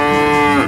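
A cow gives a single short, loud, close moo, heard alone, as part of play with a toy cattle transport truck stuck in mud.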